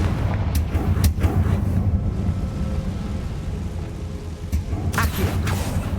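Confringo blasting spells explode in the video game Hogwarts Legacy: a few sharp, booming blasts strike early, then after a stretch of low rumbling another loud burst lands near the end.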